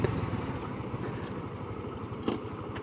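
A motorcycle engine runs on a public road during a practice ride, a low steady rumble with faint rhythmic pulsing throughout and a brief louder burst near the end.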